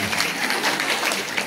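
An audience at a Marathi Shravan festival stage show bursts into brisk, sustained clapping, a close and steady round of applause with no voices on top.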